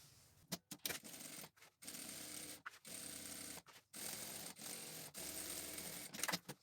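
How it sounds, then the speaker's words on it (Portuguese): A sewing machine stitching along the hemmed edge of a patchwork pillowcase, its steady close motor hum running in short bursts broken by brief stops, with no voices. "agora eu vou fazer a costurinha na beiradinha"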